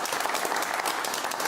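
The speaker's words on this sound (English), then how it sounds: "Big round of applause," A studio audience on a talk show claps in a dense, even burst of applause, many hands at once, close and lively throughout the short stretch.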